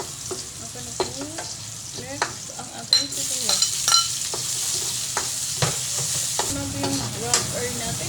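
Onions sauté in oil for a pechay Baguio dish, a crackling sizzle that grows louder midway, broken by repeated clinks and scrapes of a utensil against the pan.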